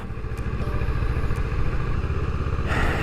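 A Kawasaki Ninja 650 motorcycle pulls away under added throttle, its engine giving a close, loud, steady throb with a rhythmic chugging pulse that lifts slightly near the end.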